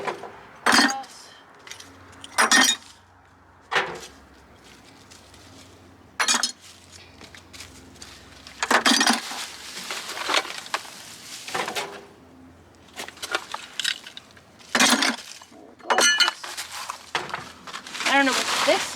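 Old glass and cans are tossed into a wheelbarrow during a garden shed and flower bed cleanup, giving a series of separate sharp clinks and clattering crashes at irregular intervals, close by and with quiet pauses between them.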